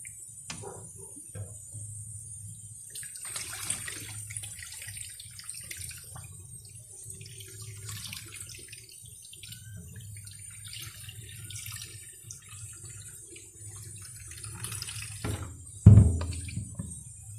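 Rice being washed under a running kitchen tap, a steady low rush of water into a sink with soft splashing and small clinks, and a louder thump near the end.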